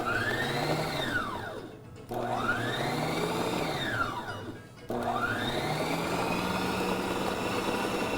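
An electric mixer beats red velvet cookie dough with flour in a home kitchen, a steady close whirring drone that dips and strains twice as the dough resists, then runs on evenly.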